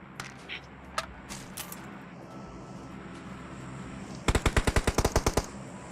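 Gunfire in PUBG Mobile: after a few scattered clicks and faint shots over steady game ambience, a loud, close, rapid burst of automatic fire of about a dozen rounds ends the stretch.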